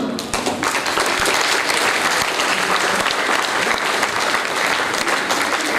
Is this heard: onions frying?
no